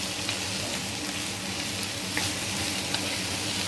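Onion, capsicum and paneer fry in a pan over the flame, giving off a steady, dense sizzle that continues unbroken and close by, with no voices.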